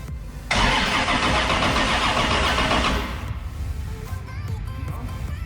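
An LS turbo engine in a 1956 Bel Air cranks loudly for a few seconds, then catches and settles into a steady close idle.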